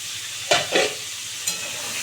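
Pointed gourd (potol) frying in a pan over low gas heat, a soft steady sizzle with a few brief louder hisses as the pieces are stirred.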